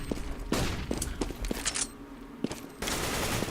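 Gunfire rips through a CS:GO esports match: rapid bursts of automatic rifle shots, some crisp and near, others softer, interspersed with sharper single cracks and a rushing noise swelling toward the end.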